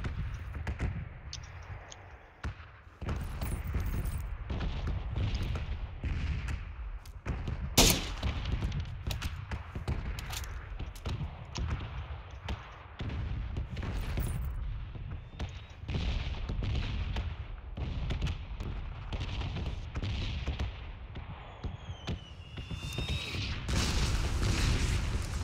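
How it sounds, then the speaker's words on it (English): Repeated mortar shell blasts thud and boom throughout a PUBG battle, arriving as irregular heavy impacts at varying distances over steady background noise, with sharper cracks mixed in. "Watch out for the mortars."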